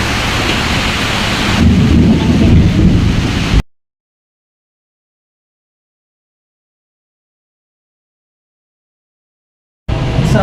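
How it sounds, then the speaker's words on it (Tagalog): Heavy rain with rolling thunder: a dense wash of rainfall and a deep rumble that swells near the middle, then cuts abruptly to silence before the downpour returns briefly at the end. "ang sama ng panahon, umuulan pa, oh."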